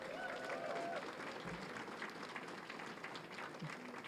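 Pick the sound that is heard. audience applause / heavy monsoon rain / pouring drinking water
audience applause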